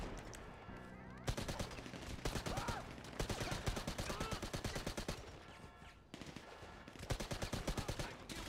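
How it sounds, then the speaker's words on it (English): Automatic gunfire in GTA Online, with rapid bursts of shots cracking in quick rhythmic volleys almost without pause, heard at moderate distance, some sustained runs and short breaks between bursts. "they're shooting the shit out of me"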